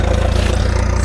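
Suzuki GSX-R 750 K4 motorcycle exhaust, a loud, steady, throbbing idle rumble close by, continuous with no talk over it.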